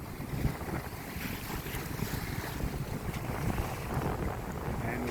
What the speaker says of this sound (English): The wind picked up just as we came up